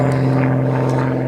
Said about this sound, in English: pardon the aircraft overhead